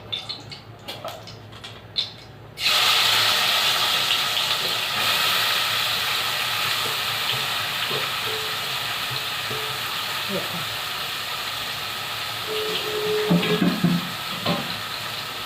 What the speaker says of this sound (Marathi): आता याच्यामध्ये आपण ते मसाला लावून घेतलेले कारले टाकूया।